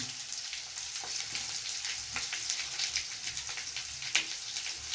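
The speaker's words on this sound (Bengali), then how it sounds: "একসঙ্গে পেঁয়াজ আর টমেটোটা একটু ভেজে নেব।" Chopped onion frying in oil in a pan while cooking jackfruit keema, a continuous soft sizzle and crackle with scattered sharper pops, heard close up and alone.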